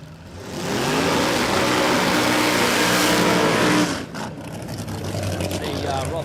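A 1955 FC Holden drag car roars down the strip at Warwick Dragway, a loud sustained engine blast that swells, holds for about three seconds, then cuts away to quieter fading noise.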